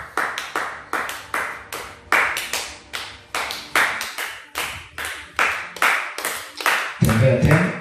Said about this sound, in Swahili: Mpe Yesu makofi ya kutosha.